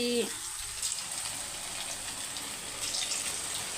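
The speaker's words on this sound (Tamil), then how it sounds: "சிக்ஸ்டி ஃபைவை வறுத்து எடுத்துக்கலாம்" Chicken 65 pieces fry in hot oil, giving a steady broad hiss with faint crackles throughout. A brief voice is heard at the very start.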